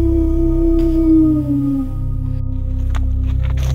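A person imitates a Sasquatch howl, giving one long, loud wavering call that slowly falls in pitch and fades after about two seconds, with faint outdoor noise afterward.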